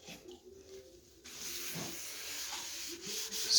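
Stain being rubbed into freshly distressed wooden speaker cabinets with a cloth, a soft continuous scrubbing hiss that starts faint and grows steadier and slightly louder.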